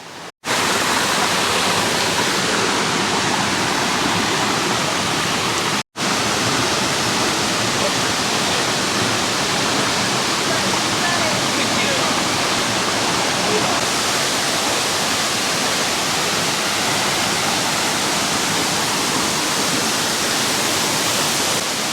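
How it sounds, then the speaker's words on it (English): A waterfall rushes steadily at a creek on a bushwalk, a loud, continuous broadband roar that fills the whole clip without pause, with only a split-second dropout partway through. "You can see the waterfall way up there."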